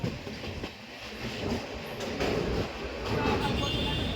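Kolkata Metro train running on rails near Dakshineswar, with a steady low rumble and rolling rail noise that swells slightly toward the end, close and continuous inside the carriage.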